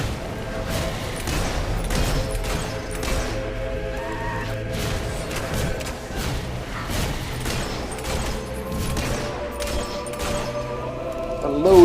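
Rapid gunfire and thuds crackle steadily through a cave fight against sand furies in the video game Fable 3, dense and continuous with game music and effects layered underneath.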